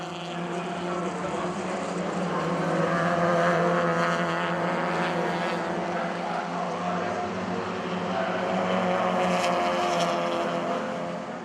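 Race cars, including Series 1 RX-7s and an MX-5, pass on a track at the NZ Grand Prix, giving a continuous loud engine roar that swells and fades slightly as they go by at moderate distance.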